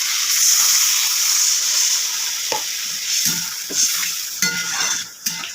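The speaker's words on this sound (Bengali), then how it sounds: "আর আমি এর মধ্যে এখন জল দিয়ে দেবো" Water poured into a sizzling radish, potato and tilapia curry brings loud, steady frying hiss and steam close by, broken by a few stirring clatters and scrapes of a utensil against the pan.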